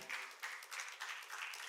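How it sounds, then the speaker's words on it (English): Congregation at a church men's event keeps clapping as guests are welcomed, a continuous patter of many hands with slight surges in intensity, fairly even and unbroken. "Keep clapping."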